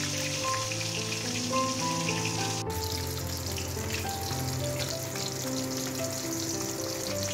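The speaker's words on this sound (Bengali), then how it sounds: "এরপর মাছটা ভালোভাবে ভেজে নিতে হবে।" Pieces of katla fish fry in oil, a continuous soft sizzle and spatter like light rain, heard under steady background music with sustained tones.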